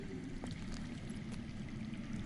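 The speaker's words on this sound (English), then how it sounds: "I hear water. From underground." Underground water flows in a Game of Thrones Telltale video game scene, heard as a quiet, continuous pouring stream with soft trickling, faint and steady with a few light clicks.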